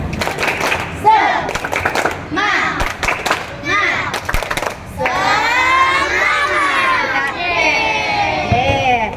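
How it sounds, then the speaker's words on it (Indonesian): Fourth-grade schoolchildren in a classroom do a rhythmic clapping chant: sharp bursts of group clapping in quick patterns, then a loud chorus of young voices shouting and singing together, close and lively. "kita akan tepuk semangat"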